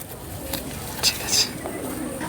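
Female Kalanka high-flying pigeon cooing softly in a loft, a few brief low coos over steady background noise, with faint voices nearby.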